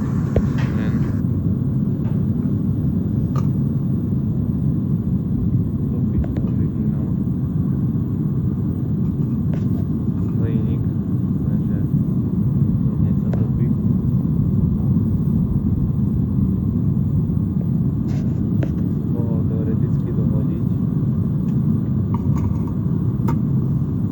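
Gas furnace burner roaring while melting aluminium to cast a horseshoe: a loud, continuous, deep rushing roar that stays steady throughout, with faint clinks and scrapes at times.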